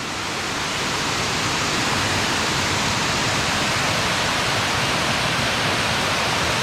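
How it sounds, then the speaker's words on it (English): A small waterfall spills down at Hell's Hollow Falls in McConnells Mill State Park, a loud, steady rushing roar of falling water heard close by, with no voices. "waterfall coming down."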